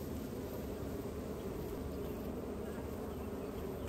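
A monster swarm of honeybees buzzes in and around a hive, a dense continuous drone that stays loud and close without pause, with no voices.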